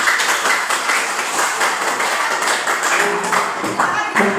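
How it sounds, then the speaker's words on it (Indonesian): A school class clapping hands together in a lively, continuous burst of applause, fairly close and loud. "Tepuk tangan untuk kita semua."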